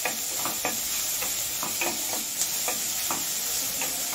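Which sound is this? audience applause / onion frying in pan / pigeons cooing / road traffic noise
onion frying in pan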